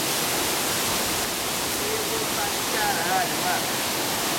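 A rushing waterfall close to a rappelling spot, a loud and steady broadband roar filling the whole stretch.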